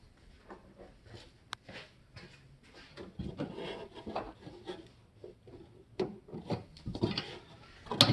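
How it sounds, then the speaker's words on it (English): Small plastic screw pop clips being twisted out and pulled free from a 2014-2018 Subaru Forester's trim, giving soft scraping, rubbing and light clicking handling noises, quiet and close with no talking. "These are just little screw pop plastic pieces. We'll unscrew them and they pull right out."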